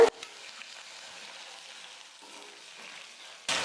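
A soft, steady sizzle hisses quietly in a pan as water is added to frying onions for Madurai-style thin chutney, with sharper bursts of frying at the very start and again at the end.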